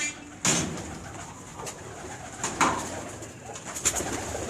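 Pigeons of a Dubai breed cooing on a rooftop in Sialkot, a steady run of soft, close coos with several louder bursts.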